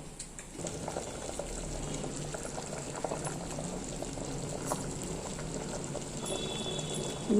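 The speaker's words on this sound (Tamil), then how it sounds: "நல்லா கொதிக்கட்டும்." Kuzhambu curry boiling in a pot on the stove, a steady close-up bubbling and simmering that continues without break.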